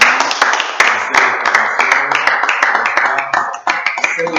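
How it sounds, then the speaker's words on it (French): A church congregation applauds together, a dense, loud burst of many hands clapping that holds steady throughout without letting up. "Est-ce que nous pouvons acclamer pour cette déclaration?"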